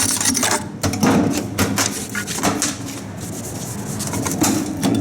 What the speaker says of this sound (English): We want to scrape all that off.